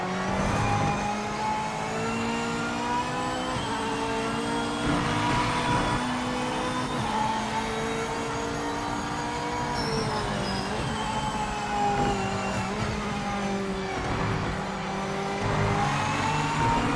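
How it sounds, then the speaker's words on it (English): Race car engines in the video game Project Motor Racing, a sustained high-pitched engine drone with rising and falling revs through gear changes, loud and steady throughout with no talk. "Across the board, the car sounds in this game sounds better than Gran Turismo"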